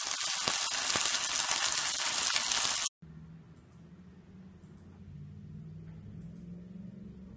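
Salmon fries in a little olive oil in a pan, giving a loud, close hiss and crackle for about three seconds. It then cuts off abruptly to a quiet low rumble of the room.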